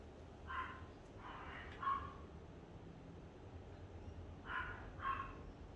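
Several dogs bark in short bursts at a distance, two or three barks per burst, separated by quiet gaps.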